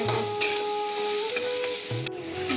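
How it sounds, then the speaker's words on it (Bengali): Cabbage seasoned with salt and turmeric frying in a pan, a continuous sizzle broken by repeated scraping stirs of a spatula nearby. "বাঁধাকপিটা প্রায় ভাজা হয়ে গেছে, আর সামান্য কিছুক্ষণ ভেজে আমি নামিয়ে নেব"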